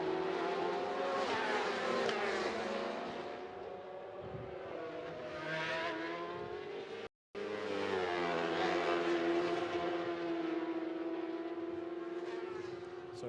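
Racing motorcycles at the Macau Grand Prix screaming past at high revs, loud and close, pitch sweeping down as they pass, with a brief dropout mid-way and more bikes following.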